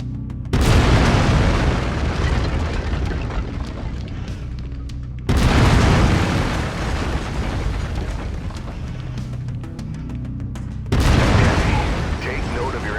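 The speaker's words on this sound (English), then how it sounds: "I've mapped the autocannon to Weapon Group 1. You're free to fire whenever you're ready." Autocannon bursts and explosions from the video game MechWarrior 5: Mercenaries come as three heavy booming blasts, each with a long rumbling tail, loud and close, with voices partly mixed in.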